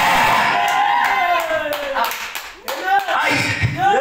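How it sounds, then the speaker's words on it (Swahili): A church congregation claps in short, uneven bursts while a preacher's loud, forceful voice carries over the applause. "Hiyo makofi sio mzuri."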